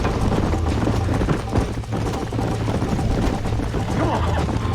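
Horse galloping in Red Dead Redemption on Xbox 360, a steady rapid clip-clop of hooves running continuously under a dense, noisy game soundscape.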